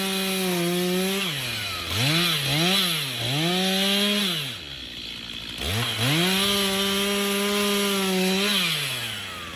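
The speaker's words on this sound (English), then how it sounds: "his chainsaw roaring like a lone warrior's blade in the wild" A chainsaw roars loudly through wood, its engine pitch rising and dipping as it bites in, easing off briefly midway, then revving back up.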